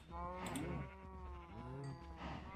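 A cow in a video game moos as it is being killed, with two long, loud, drawn-out lowing calls heard alone and close.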